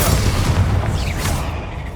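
Bombarda spell detonating in the video game Hogwarts Legacy, a loud, close booming blast with a rumbling low tail and a brief whooshing sweep, no voices over it.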